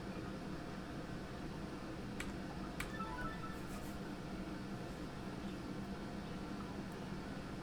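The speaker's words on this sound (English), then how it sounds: "I have my air conditioner filter running, so hopefully my voice isn't drowned out by that" Steady broadband whoosh of an air conditioner filter running indoors, a constant, even hiss-like drone with no rhythm, broken only by a couple of faint brief clicks.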